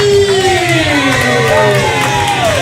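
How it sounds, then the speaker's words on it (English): A lively crowd cheers and whoops loudly, with overlapping shouts and voices rising and falling continuously. "let's give those applause now"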